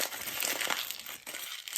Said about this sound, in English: So I'm going to use this, and I'm going to crumple it up.